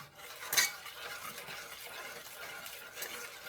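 A spoon stirs melting butter with heavy cream in a pot for sweet potato caramel cinnamon rolls: soft continuous scraping and swishing, one louder metallic clink near the start, quiet and close.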